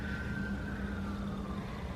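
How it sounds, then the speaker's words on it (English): Sirens wailing in the background, a steady sliding tone held over a constant low hum of traffic or engine noise. "here it is with the sirens in the background."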